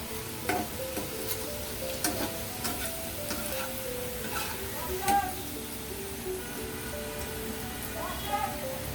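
Goat meat korma sizzles and fries in a pan while being stirred, with steady crackling and intermittent scraping clicks close by and a voice now and then.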